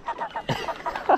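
Chickens on a poultry farm give a quick series of short clucks, close and fairly loud, ending in one sharper, louder call.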